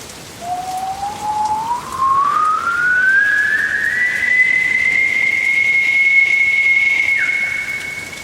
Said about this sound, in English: looked at the face of the Storm Maker and began to whistle at it